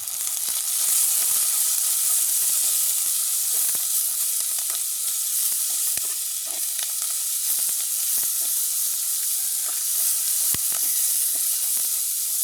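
Crab curry fries in a pan with fenugreek and fennel, giving a steady bright sizzle and hiss with scattered crackles and occasional stirring scrapes.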